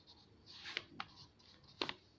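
A pen scratches across paper in a few quick strokes with sharp little ticks, faint and close in a quiet room, as a name is written during a maths lesson.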